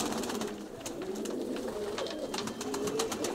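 Pigeons coo softly and repeatedly in a loft in Kozani, low throaty calls over a continuous rustling background with occasional sharp clicks and flutters.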